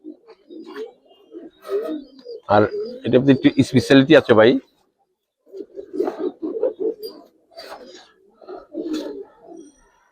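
Giribaz pigeons coo softly in the background while someone talks over them in several bursts, with a brief loud rattle in the middle.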